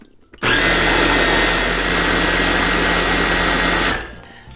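A blender purees mango for a cheesecake topping. It makes a loud, continuous whirring roar lasting about three and a half seconds, then stops abruptly.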